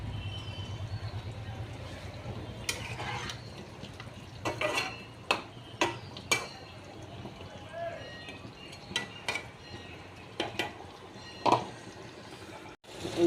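Potatoes go into a pan of chicken curry with a little water, making scattered metal clanks and scraping taps of utensil against pan over a low, steady background hum.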